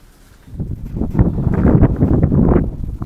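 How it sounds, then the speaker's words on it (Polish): Gusty wind buffets the microphone in uneven rumbling bursts, building after a quiet start and staying rough and close throughout. "Wiatr dalej nie ustaje."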